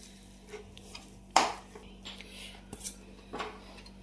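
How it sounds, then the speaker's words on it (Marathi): A sweet mithai mixture with cardamom powder stirred in a pan off the heat, giving a few faint scrapes and clinks of a spoon, one sharper knock standing out in a quiet kitchen. "अजून एकदा याला छान मिक्स करून घेऊया"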